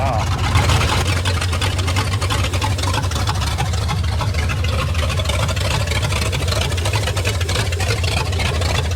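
A 1973 Ford Mustang Mach 1 engine, being revived, cranks and runs with a steady, loud low rumble throughout, with voices speaking over it.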